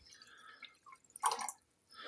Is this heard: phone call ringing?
no